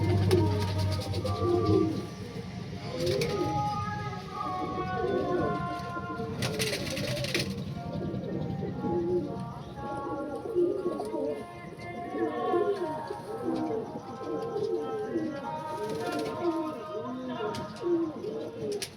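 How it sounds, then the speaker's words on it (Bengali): Panjabi Malwai pigeons cooing in repeated soft, throaty rolls from several birds nearby, steady throughout, with faint chirps and background noise around them. "আজকে ছখানা পায়রা এসেছে, ঠিক আছে। পর কাটা পায়রাগুলো আজকে এসেছে,"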